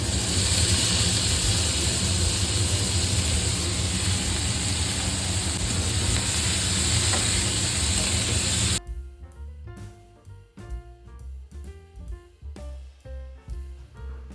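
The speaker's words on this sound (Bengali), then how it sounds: "ঝিনুকের সঙ্গে আমি পেঁয়াজটা ভালোভাবে নাড়াচাড়া করে হালকা ভাজা ভাজা মতো করে নিয়েছি" Sliced onion fries with freshwater mussels (jhinuk) in a pan, giving a loud, continuous hissing sizzle for about nine seconds. Quieter, irregular sounds follow.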